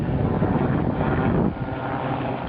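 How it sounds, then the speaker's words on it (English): A propeller plane flies over the countryside with a continuous, moderately loud droning hum that eases slightly partway through. "our friend in a plane,"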